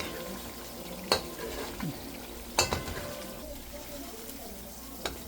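Coconut cream frying down into latik as the oil separates, a steady soft sizzle in a pan with a few sharp clicks and stirring knocks over the top.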